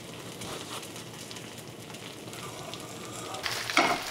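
Bánh xèo, the Vietnamese pancake, sizzles and fries steadily in a pan over high heat, a continuous close crackle with a brighter burst of spattering near the end.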